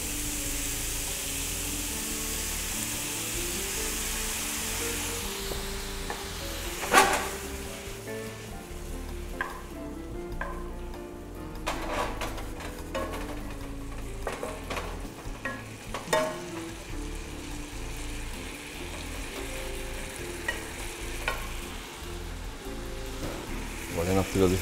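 Soy sauce hits a hot pan of Chinese-style shrimp and sizzles, a steady crackling fry with occasional clinks and scrapes of stirring, continuing at an even, moderate level throughout.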